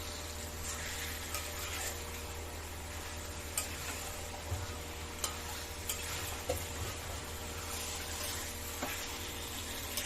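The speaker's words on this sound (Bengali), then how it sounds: "চিকেনটাকে ভালো করে কষাতে হবে।" About a kilogram of chicken being stirred and sautéed with spices in a pan: a low steady sizzle under regular clicking taps of a spoon against the pan, fairly quiet and without speech.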